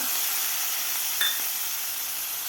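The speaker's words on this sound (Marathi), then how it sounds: "टोमॅटोसुद्धा आपल्याला खालच्या मसाल्यामध्ये व्यवस्थित एक मिनिट मिनिटभर परतून घ्यायचा आहे" Chopped medium tomato frying in a crushed chilli thecha and onion spice paste for Maharashtrian pitla, a steady close sizzle and hiss throughout with one brief clink of a utensil midway.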